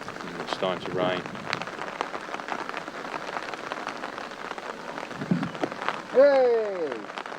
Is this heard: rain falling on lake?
yes